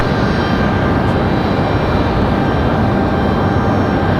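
A plane roars loud and steady at Raleigh-Durham International Airport, a constant broad engine rumble filling the whole few seconds with no voices.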